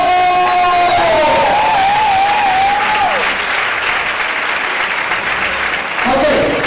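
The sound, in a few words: audience applause at salsa congress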